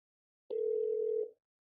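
A single short electronic tone from an Amazon Echo device when an outgoing call is placed, a clean steady beep lasting under a second against silence.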